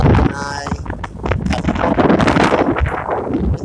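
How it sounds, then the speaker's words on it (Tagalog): Strong, gusty wind near the sea in northern Luzon roars and buffets the microphone continuously, with a brief tonal hum near the start and rough broadband rumble throughout. "Itong hangin, ito"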